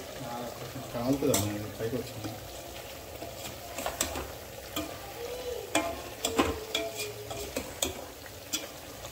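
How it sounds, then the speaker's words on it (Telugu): A spoon stirs sambar powder into chopped vegetables in a pot for sambar, giving soft scraping and clinking knocks against the vessel over a quiet kitchen background, with a voice speaking at times. "ఇప్పుడు మనం సాంబార్ పొడి వేసుకున్నాము. కలుపుకోవాలి."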